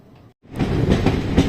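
After a brief hush, the Ranikhet Express departs Pataudi Road railway station in India, rumbling heavily along the tracks with steady low rolling noise and faint rhythmic clatter of the wheels.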